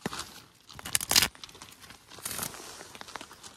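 A deck of playing cards shuffled outdoors on a camping trip, giving a quick flurry of crisp riffling and rustling bursts, the loudest near the start and another softer run later, close and alone.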